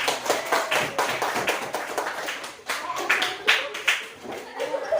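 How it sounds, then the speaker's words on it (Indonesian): Students in an Islamic studies (Akidah Akhlak) classroom clap their hands together in a rhythmic, patterned clap, with brisk overlapping bursts and some chuckling and voices mixed in. "Tepuk tangan"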